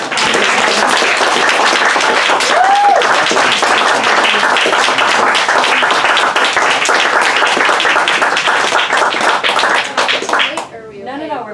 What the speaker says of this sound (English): Please, one warm round of applause.